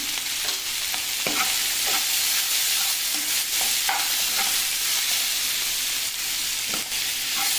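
Bottle gourd curry with green chili and turmeric is stirred in a hot pan, a steady loud sizzle running throughout with periodic scraping strokes of the spoon, close up and with no voices.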